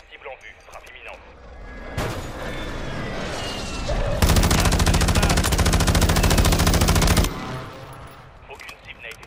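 A strike in the Warzone 3 video game unloads with heavy, continuous automatic gunfire and booming blasts, loud and close, building into a dense rapid volley before cutting off, with a radio-style voice speaking over the opening.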